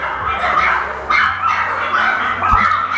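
Dogs at a dog-themed café in Da Nang, Vietnam bark and yip close by in a few overlapping bursts over a busy indoor background.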